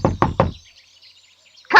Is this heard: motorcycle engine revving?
no